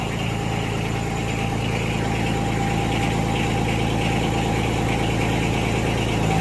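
A John Deere X758 lawn tractor engine runs steadily at idle, a loud, constant near drone with a low hum and no break across the whole stretch.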